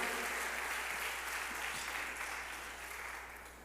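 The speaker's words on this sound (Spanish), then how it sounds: "Dele palmas al Rey" A church congregation applauds during a Spanish-language service, producing a dense, steady wash of many hands clapping together that holds for several seconds and fades slightly near the end.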